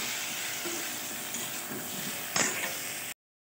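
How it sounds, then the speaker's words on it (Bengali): Spiced eggplant curry with a splash of water stirred in a pan, giving a steady broadband sizzle with a louder scrape near the end before the sound cuts out abruptly. "এবার একটু জল দিয়ে নাড়াচাড়া করবো।"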